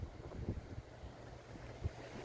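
Wind gusting at the shore in Paull, a fishing spot near Hull, rumbling low and steady against the microphone with a couple of stronger buffets and no talk.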